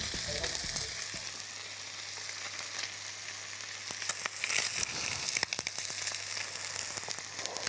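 Beef tongue frying in a pan on top of potatoes, a steady, loud sizzle with crackles and occasional stirring scrapes throughout, no talking.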